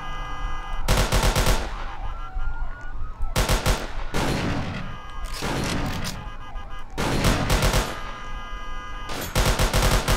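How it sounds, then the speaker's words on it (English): Gunfire in the Roblox game ERLC, loud rapid automatic bursts repeating in several dense volleys over a wailing emergency siren, close and without talk. "Shots fired, shots fired."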